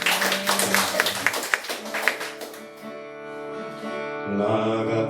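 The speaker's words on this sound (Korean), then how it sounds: "우리 하나님께 찬양의 박수 올려드리겠습니다." Church congregation clapping in praise during a worship service, rhythmic claps over sustained music that fade as the music continues alone.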